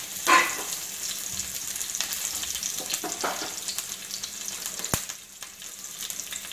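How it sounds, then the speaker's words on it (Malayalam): Mustard seeds, cumin and curry leaves tempering in hot oil for a Kerala green bean thoran, giving a soft, steady sizzle with an early burst of crackle and a sharp knock near the end, with no talking. "ഞാൻ കടുക് താളിക്കാനായിട്ട് കടുകും ജീരകവും ഇട്ടിട്ടുണ്ട്. നമുക്ക് കറിവേപ്പിലയും കൂടി ഇതിനകത്തേക്ക് ഇട്ട് കൊടുക്കാം."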